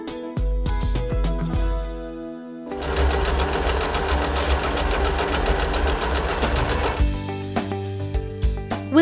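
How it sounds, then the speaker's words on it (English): An Usha Janome Empress sewing machine stitches, starting and stopping with a few short bursts, then running in a steady rapid mechanical chatter for several seconds before slowing again, close and loud. "let's get ready to sew with your Usha Janome Empress"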